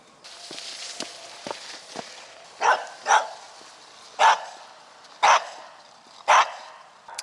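A dog being walked outdoors barks five times in an irregular series, fairly close, with lighter footsteps and small knocks scattered before the first bark.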